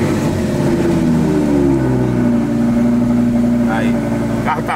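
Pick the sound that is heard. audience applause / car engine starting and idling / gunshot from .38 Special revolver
car engine starting and idling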